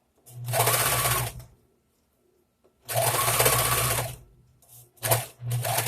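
A sewing machine stitches baby clothes in two long, loud runs of about a second each, separated by a quiet pause. A few shorter, quick bursts of stitching follow, all close to the listener.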